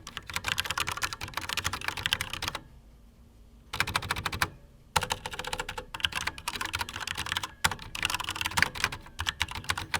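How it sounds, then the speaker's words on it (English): Rapid, steady typing on a Corsair K70 RGB TKL mechanical keyboard with Cherry MX Red switches, close and fairly quiet with light bottoming-out chatter, broken by two short pauses. "in comparison to other mechanical keys, these are quite quiet with a slight chatter as the key press bottoms out"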